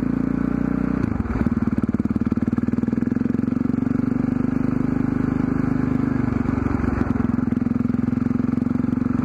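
A motorcycle fitted with new throttle and clutch cables rides along with a loud, close, steady engine drone. The revs rise and dip briefly twice.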